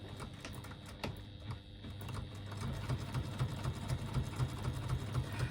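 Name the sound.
sewing machine stitching a strap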